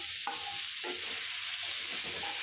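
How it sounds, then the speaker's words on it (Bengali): Crushed green chilies drop into a hot frying pan and sizzle loudly and steadily at close range, with a few stirring scrapes along the way. "আমি মরিচগুলো থেতো করে নিয়েছি ওগুলো দিয়ে দিলাম"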